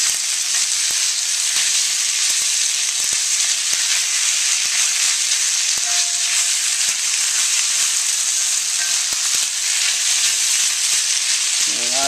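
Ramen noodles stir-frying in a hot wok, a loud continuous sizzle with faint clicks of stirring and a brief tonal squeak midway.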